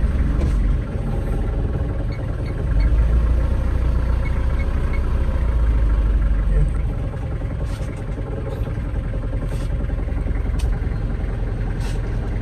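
A car engine idles with a noisy release bearing, giving a steady close low rumble and a faint whine, with some light ticking noises higher up.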